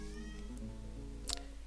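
Pet cat meowing indoors in a room, a short drawn-out meow under a steady low hum, followed by a brief bright sound near the end.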